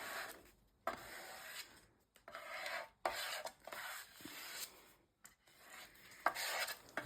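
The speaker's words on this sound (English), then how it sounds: "I'm probably just going to scrape it like this. Scrape a bit off, I can use that later." A palette knife scrapes excess Winsor & Newton paint off a mixed-media surface in a series of close, raspy strokes broken by short pauses.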